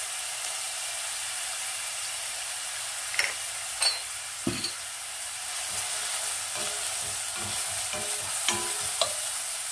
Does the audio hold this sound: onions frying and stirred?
yes